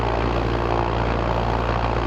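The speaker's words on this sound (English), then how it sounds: "So we're going to do a kind of a run up here and do a static run up as well, just to see what RPM we can develop out of it." Zenith CH 750 Cruzer light aircraft with a 64-inch Sensenich propeller during a static engine run-up, a loud, steady, close propeller and engine drone holding constant throughout with no voices.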